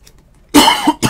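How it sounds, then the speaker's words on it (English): A person coughs near the mic in a dusty room, with a loud burst of coughs after a near-silent lead-in and another short cough at the end. "I'm not coughing on your cards."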